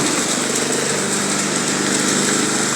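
A remote-controlled lawn mower engine running close by, a continuous buzzing whine at a steady pitch.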